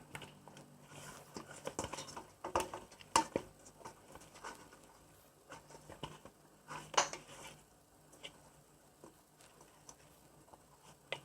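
Mackerel seasoning and cooking oil being mixed in a bowl produces faint, irregular clinks and taps of utensil against the bowl, scattered sparse knocks with quiet gaps between.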